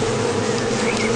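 Honey bees buzz around the hive in a dense, continuous, close swarm drone with no pauses.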